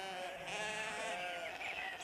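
A sheep in a Postman Pat cartoon gives a loud, sustained, wavering bleat close by, filling the whole moment with no talking.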